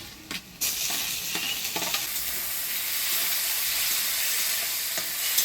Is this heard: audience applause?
no